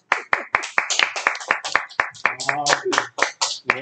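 A lecture audience claps after a talk on Donghak politics, with crisp, evenly spaced hand claps in a quick steady rhythm from a small nearby group, and voices talking over part of it.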